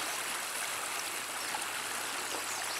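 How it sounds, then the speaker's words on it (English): Continuous rushing of a flowing stream, an even, broad watery hiss with no other sounds. "Love the sound of the water."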